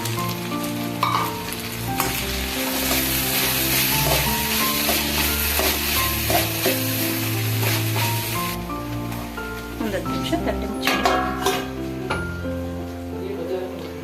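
Food being stirred and heated on a hot tawa while cooking a gorikayi (cluster bean) palya with ground peanut and coconut: a steady, close sizzle with scraping stir strokes running throughout, with faint voice in the background.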